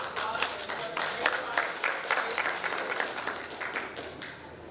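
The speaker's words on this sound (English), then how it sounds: "Please can we give everyone on the stage a round of applause" A room full of people claps for the speakers on stage at a conference breakout session, with steady, dense applause that carries on throughout and tapers off toward the end.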